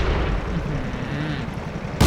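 A steady low rumble runs throughout, then a single sharp, loud tank gunshot blast cracks at the very end, in World of Tanks.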